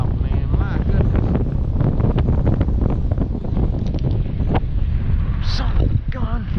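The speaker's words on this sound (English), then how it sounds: "Man, I didn't know it was this dang windy." Strong wind roars steadily across the microphone outdoors on the water during a fishing trip, a constant heavy buffeting with faint water and boat sounds beneath.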